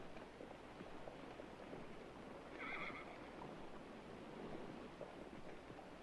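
A horse whinnies once, fairly faint and brief, over a steady background rumble like wind or surf, during a horse auction in the 1959 TV western Bonanza.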